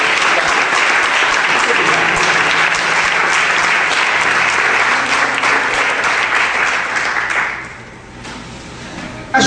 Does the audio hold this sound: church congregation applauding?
yes